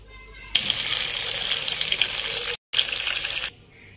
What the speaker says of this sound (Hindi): ये मूली वगैरह भी है सलाद का सामान भी है, इसको धो के अब हम काटना शुरू करते हैं।